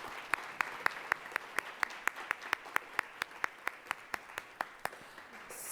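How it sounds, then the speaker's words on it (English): Sparse applause at a Columbus Metropolitan Club talk on AI, with close, distinct claps in a steady rhythm over quiet room noise, fairly faint overall. "Let's give them a round of applause."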